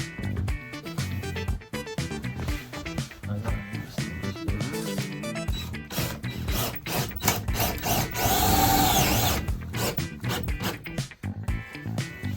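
A power drill drives three or four screws into the wooden frame of a van during a camper build, the motor whirring in steady bursts with a louder sustained run midway, close and fairly loud.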